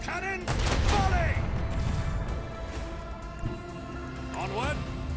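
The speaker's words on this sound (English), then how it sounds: "Macro cannon, volley!" Starship macro cannon volley in Warhammer 40,000: Rogue Trader, a loud barrage of rumbling gunfire and crashing blasts running steadily for about five seconds, with short voice-like sounds at the start and near the end.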